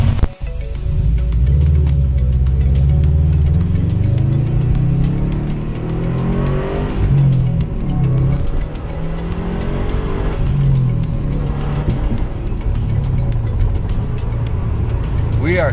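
A 2009 Subaru WRX engine roars loudly and continuously while driving, revving up and down through several surges as it accelerates, with a voice heard over the engine noise.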